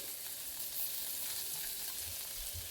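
Garlic dropped into a very hot pan with carrots, giving a steady broadband sizzle and hiss throughout, close and fairly loud with no talking.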